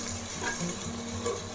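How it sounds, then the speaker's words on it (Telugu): Cloves, cinnamon and shahi jeera frying in a clay pot for gongura mutton: a short, even, close sizzle with a faint stir and no talking. "ఇవి మంచిగా ఫ్రై చేసుకుందాం."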